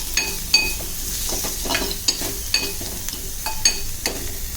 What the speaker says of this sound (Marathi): छान लाल रंग येईपर्यंत परतायचं.